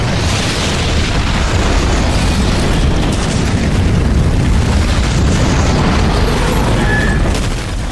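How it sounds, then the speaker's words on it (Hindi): A vacuum bomb detonation rolls out as a long, loud, sustained roar of blast and rumbling debris, dense and continuous for several seconds with no voices. "वैक्यूम बम से होने वाले धमाके"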